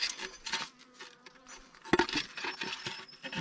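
Honeybees buzzing around an opened beehive during an inspection, a close, wavering drone with scattered bumps and rustles, no talking heard.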